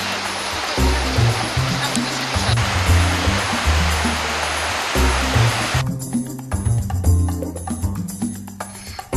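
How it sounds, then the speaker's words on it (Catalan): Broad rushing water where the Nera river spills into the Garona river in the Aran valley mountains, a steady loud roar throughout with low rumbling pulses underneath. "Ens arribem fins al riu Nera per veure com es vessa amb el riu Garona."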